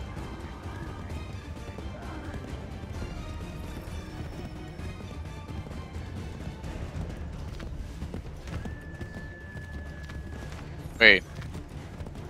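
Galloping horse hooves drum under an Assassin's Creed III game soundtrack while a person talks briefly, ending with a sharp whoosh-like crash.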